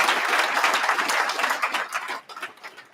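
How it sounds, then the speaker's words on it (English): Audience applause rises at a graduation ceremony, a dense patter of many hands, then thins and fades toward the end. "Please give them a big gigantic"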